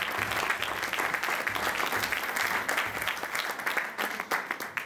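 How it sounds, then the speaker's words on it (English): Crowd at a jazz band concert in Jersey City applauding warmly, dense clapping that holds steady and begins to thin out near the close, with no talk over it. "Please, a wonderful, wonderful round of applause."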